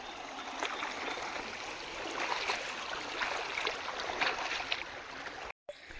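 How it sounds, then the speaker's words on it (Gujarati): Steady rushing of a flowing stream, a continuous watery hiss throughout with a momentary dropout near the end. "પાણી પાણીની રીતે વહે છે"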